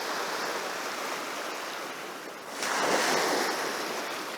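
Sea waves break on a fine-sand beach in a steady, close roar of surf that swells louder in the second half, with some wind noise and no voices.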